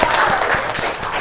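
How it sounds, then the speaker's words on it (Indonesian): A classroom of children claps in a short, loud, close burst of applause, quick overlapping hand claps lasting about a second. "Tepuk tangan untuk kita semua."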